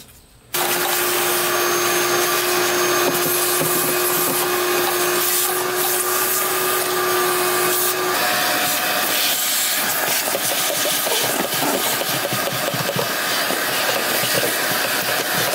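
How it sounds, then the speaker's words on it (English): A vacuum cleaner starts abruptly and runs loud and steady, sucking sticks and debris out of the engine bay of a cheap 4x4 ATV that sat outside for a long time, with rough scraping as the nozzle works. "we're gonna vacuum all this junk out of here"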